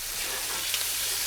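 Bacon crisping in a hot pan gives a dense, steady sizzle, close and loud, with a few brief pops and spits and no talking over it.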